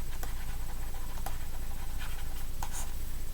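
Chalk or pen strokes put equations on a board during a physics lecture, a faint scattered series of short taps and scratches over steady background hum, with no talking.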